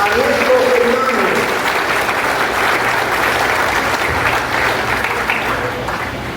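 Church congregation breaks into applause during a service, dense loud clapping filling the hall, steady throughout and tapering slightly at the close.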